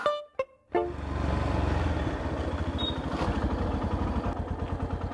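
A motorcycle engine fires up after a couple of sharp knocks, then settles into a steady, close, chugging idle with a rhythmic throb that runs for several seconds.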